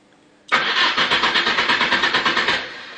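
Car engine cranking after a remote start triggered from a mobile phone: the starter kicks in abruptly and churns in a fast, even pulsing rhythm for about two seconds before fading, close and fairly loud, with no voices.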